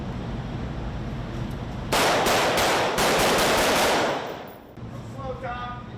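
Live-fire close-quarters battle drill, rifles firing a rapid burst of loud close shots over about two seconds, then a shorter volley, against a steady outdoor background with faint voices.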